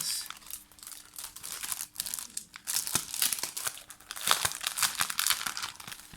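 Small Frozen-themed stickers for a simple handmade card are handled close up, giving soft crinkling and crackling of paper and backing with irregular light taps.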